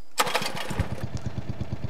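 A 1970s lawn tractor engine is pull-started: a sharp cranking rasp, then the small engine catches and settles into a steady, rapid putter at idle, fairly close and with no voices.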